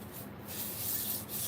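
A small sponge rubs over bisque-fired wheel-thrown pottery to smooth away unwanted texture, giving a soft, continuous scrubbing hiss close by with no talking.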